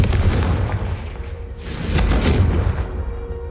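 Confringo blasting spells exploding in the video game Hogwarts Legacy, heard as loud, heavy booming blasts that roll into one another over about three and a half seconds.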